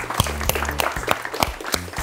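Audience clapping for fourteen candidates on a French game show stage, rhythmic in-time claps from a crowd over a thumping music beat, moderately loud and steady for a couple of seconds.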